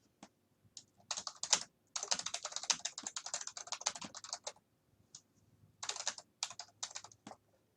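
Keys clacking on a computer keyboard in bursts of fast, close typing with short pauses between runs, fairly quiet and with no talk.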